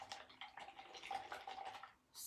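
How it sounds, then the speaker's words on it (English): Paint brushes swished and rinsed in a container of water with a little Murphy's soap after acrylic painting, a close, continuous sloshing and dripping wash lasting a couple of seconds, heard alone. "I'll clean my brushes."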